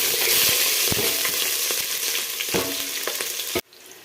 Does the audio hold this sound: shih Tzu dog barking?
no